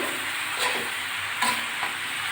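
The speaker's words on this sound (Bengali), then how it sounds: "আমি এখন নাড়াচাড়া করে" Vegetables sizzle steadily in a hot pan while a utensil stirs them, with a few scraping strokes standing out above the constant frying hiss.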